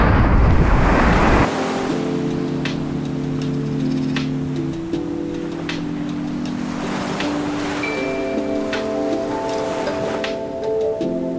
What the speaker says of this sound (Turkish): Deniz şöyle.